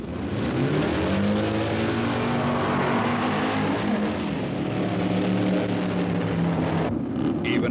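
A 1965 Super Stock drag racing car roars down the strip in a loud, sustained engine run with shifting harmonic tones, the pitch rising and falling before a slight drop near the end.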